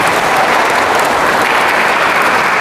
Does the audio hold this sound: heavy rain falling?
no